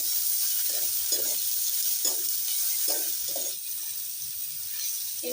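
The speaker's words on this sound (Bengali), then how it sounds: "এবার দিয়ে দিব হলুদ গুঁড়ো, একটু শুকনো লঙ্কা গুঁড়ো। মশলাটাকে ভালো করে কষিয়ে নেব।" Masala with turmeric and red chilli powder being sautéed for a brinjal chicken curry, a close, steady sizzle broken by a regular series of spatula scrapes and stirs.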